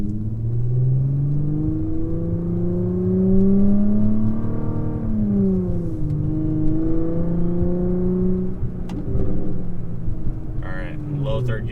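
Audi B8.5 S4 engine pulling hard in third gear on a highway on-ramp, a steady loud drone whose pitch climbs, dips briefly at a shift-like break, then rises again, with a faint flutter near the end.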